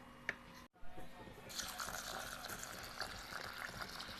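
Water is poured into a vessel of rice to soak it for dum biryani, a faint trickling and splashing that follows a brief handling knock in a quiet kitchen.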